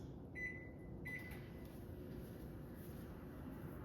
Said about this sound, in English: So I'm going to grab this in the microwave, 15 seconds.